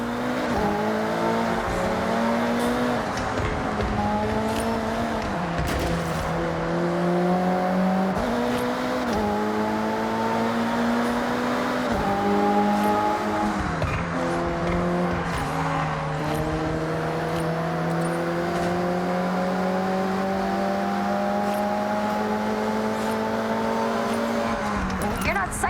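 Race cars in the Forza Horizon 6 video game roar continuously near at hand, their engines rising in pitch through the gears, dropping at each shift and revving again, with occasional tire squeal and voices talking over them.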